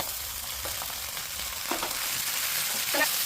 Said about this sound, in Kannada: ಸೊ ಈಗ ನೆನೆಸಿಟ್ಟಿರೋ ಬ್ರಾಕ್ಲಿನ ಆ್ಯಡ್ ಮಾಡಿ